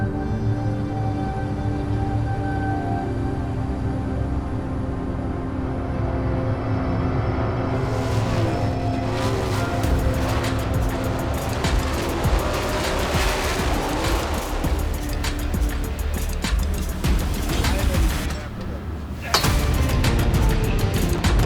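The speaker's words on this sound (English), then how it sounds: "They race wheel to wheel for the second spot." Sprint race cars running wheel to wheel on a dirt track at Arrowhead during the Jason Johnson Classic. Engines roar loud and continuous, with sharp crackling bursts and pops rising through the second half.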